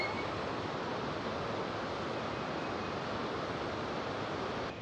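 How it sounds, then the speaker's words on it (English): Steady, dense broadband roar of a waterfall at Brugess Waterfalls, continuous and unchanging throughout without any voices. "There's an unobstructed shot of the falls."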